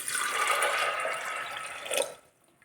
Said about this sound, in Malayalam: ഇതിൽ വെള്ളം ഒഴിച്ചു കൊടുക്കും.